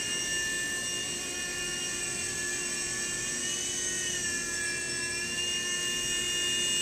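A Blade mSR micro RC helicopter hovers close by, giving a steady high-pitched electric whine with constant tonal layers and no gaps, alone without talk.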